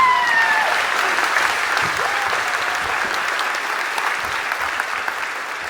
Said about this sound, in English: Go ahead, clap. Go ahead. Clap.